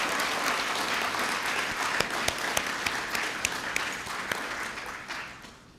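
Audience applause at a city's State of the City address, a dense, sustained clapping from a large crowd with a few sharper claps standing out, fading toward the end.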